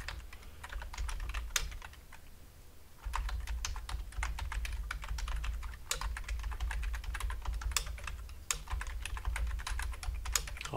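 Steady typing on a computer keyboard while filling out a web registration form, dense quick key clicks running throughout with a brief quieter pause near the start, no voices.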